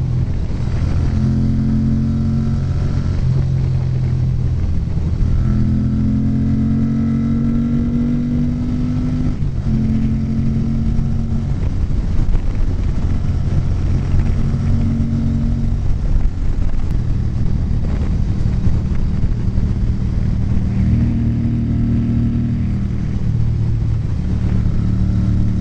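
Ducati 900SS motorcycle engine running steadily while being ridden on a road, a loud continuous drone with shifting pitch as it accelerates and eases off, wind noise throughout.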